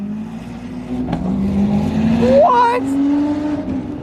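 Lamborghini Aventador engine roaring nearby, a steady deep drone that swells and rises in pitch midway, with excited voices talking over it.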